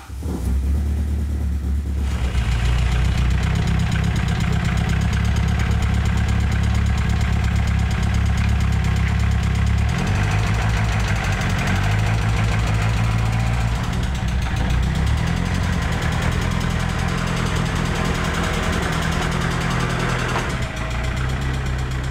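A project car's engine runs continuously as it is backed out of a garage, a loud, close, steady low rumble that shifts slightly in tone partway through as the car moves.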